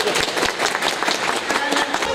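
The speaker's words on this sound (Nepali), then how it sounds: "उहाँलाई ताली बजाएर हार्दिक स्वागत गर्नु" An audience claps to welcome a guest at a Nepali traffic awareness event, a dense, steady round of applause filling the whole stretch, fairly loud and close.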